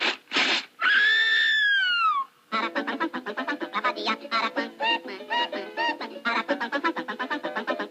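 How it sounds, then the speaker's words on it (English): The aracuan bird from the Three Caballeros cartoon sings its peculiar song: a long sliding, warbling whistle followed by a rapid, chattering run of bright, repeated syllables, loud and up close with no talk. "he's called the aracuan because of the peculiar song he sings"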